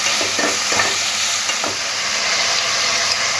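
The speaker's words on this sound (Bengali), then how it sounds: "টমেটো সস, ভিনিগার একসাথে মিশিয়ে নেব নাড়াচাড়া করে" Tomato sauce and vinegar being stirred in a pan for chicken Manchurian, a steady sizzling fry with soft scraping strokes running throughout, close and fairly loud with no talk.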